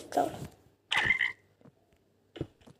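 Frog croaks in the video game Minecraft, a few short croaks and clicks spaced apart over near silence.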